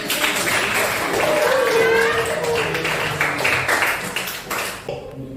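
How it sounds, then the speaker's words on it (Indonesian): Pupils in a classroom clap together through a lesson, a dense, steady patter of hands that fades near the end, mixed with voices speaking over it. "Tepuk tangan lagi."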